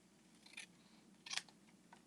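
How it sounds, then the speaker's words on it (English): Scissors snip through card stock in two quick, crisp cuts roughly three-quarters of a second apart, near and fairly quiet over faint background hum, with no talking. "let me get my scissors in there"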